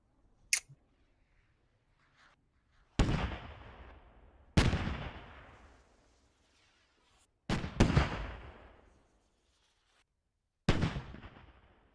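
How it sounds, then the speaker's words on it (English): Rockets in the military shooter game Squad fire and explode in a series of sharp blasts, five heavy impacts with long decaying rumbles spaced a few seconds apart after a brief early crack, loud and without voices. "So eventually these rockets are going to hit something"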